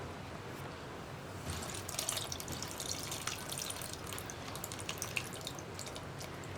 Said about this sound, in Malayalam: ആ ഒരു പുളിവെള്ളവും കൂടി ഇതിലേക്ക് ആഡ് ചെയ്ത് കൊടുക്കാം.